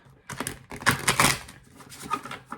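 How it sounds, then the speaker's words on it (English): Tarot cards being shuffled by hand, a run of quick papery riffling and slapping bursts, close and moderately loud, with brief pauses between flurries and no talk. "I'm gonna shuffle our tarot again"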